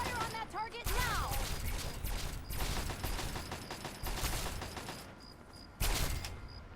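Sustained gunfire in the video game Fallout 3, dense loud shots and mechanical clatter running through most of the stretch, with a sharp burst near the end over game ambience.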